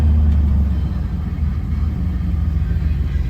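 A 1957 Chevrolet Bel Air engine rumbles steadily from inside the car during a brake test, a low, continuous drone with a faint whine, no voices.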